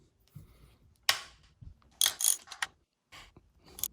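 Ratchet working the lower triple clamp bolts on a Yamaha WR250R front end, heard as a few separate bursts of clicking with quiet gaps between them, close up and with no voices.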